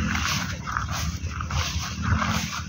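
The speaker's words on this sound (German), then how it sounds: "meine Hunde begleiten mich" Dogs bark and yip in an outdoor setting near farm fields, several short excited bursts over steady broadband noise, fairly close and moderately loud.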